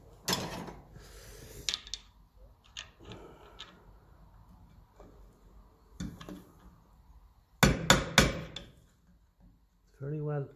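A screwdriver scraping and tapping on a corroded metal plate of a Lucas dynamo from a 1954 Ferguson 20 TEF diesel tractor, with scattered clicks and clunks, then a few sharp louder knocks near the end.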